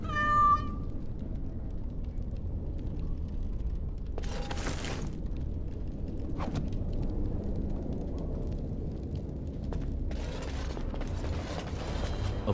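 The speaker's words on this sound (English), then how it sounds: "Little kitty there makes me want to vomit." A cat meows once at the start in the video game Dragon Age: Origins, a short clear cry, followed by quieter ambient creaks and rustling bursts in the background.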